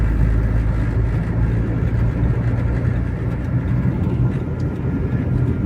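A Proton Exora car driving in fourth gear at around 2000 rpm, a steady low engine and road rumble heard from inside the cabin, continuous and fairly loud with no change in pace.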